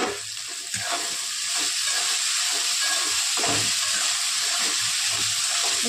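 Green tomato, carrot, beans and potato sautéing in a pan, giving a steady hiss and sizzle with scraping stirs, close and continuous, with no voice over it.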